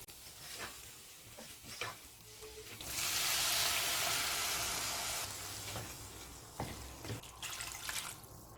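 Water is poured into a pan of frying spices for a long beans tamarind curry, a steady rushing pour and sizzle lasting about two seconds between quieter stirring and clinks, with no talk.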